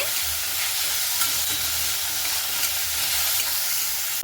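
Potatoes frying in hot oil give a loud, steady sizzle with fine crackling and occasional stirring scrapes, close by and without any talking.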